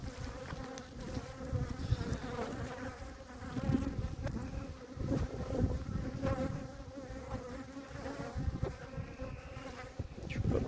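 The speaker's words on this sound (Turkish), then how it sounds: "Şöyle alayım biraz uzaklaşım arılar hırçınlaştı." A swarm of agitated honeybees buzzes continuously around hives right after the honey harvest, a dense close drone that swells and fades as insects pass near, with no talk.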